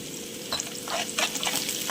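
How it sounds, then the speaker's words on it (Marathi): Plain peanuts with curry leaves dry-roasting in a kadhai, giving a steady close crackle and rustle with a few brief louder pops and scrapes of stirring. "मी फक्त प्लेन शेंगदाणे टाकत आहे आणि थोडा मी याच्यावरती कढीपत्ता टाकून घेणार"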